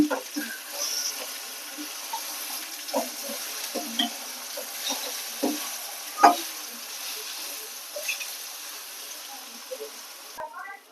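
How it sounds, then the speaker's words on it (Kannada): Brinjal masala fry spits and sizzles steadily in a pan, with scraping stir strokes and small knocks recurring every second or so, and a louder clatter near the end. "ಈ ಥರ ಫ್ರೈ ಮಾಡ್ಕೋಬೇಕು."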